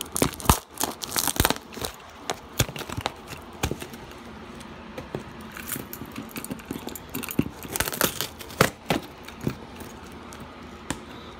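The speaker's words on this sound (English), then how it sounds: "Oh, I just ripped a chunk of the box off." A cardboard computer box for a Mac Pro 1,1 being ripped by hand, giving a run of sharp, close tearing and crinkling bursts with short pauses between them, no talking.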